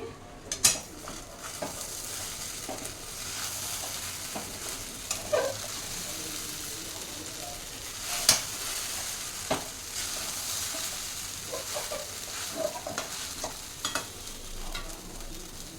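Sabudana khichdi stirred in a pan with a spoon, with a soft steady sizzle of frying and occasional sharp clinks and scrapes of utensil against the pan.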